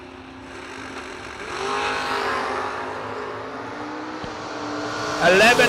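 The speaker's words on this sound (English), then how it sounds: "Mr. Barnes in the Datsun, left side of the racetrack, and Ryan Henry" Drag racing cars, one a Datsun, launch down the strip, with engine roar building and swelling loudly over several seconds and a sharp rising whine near the end, while an announcer's voice runs underneath.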